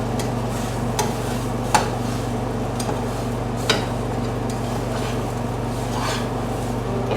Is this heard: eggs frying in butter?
yes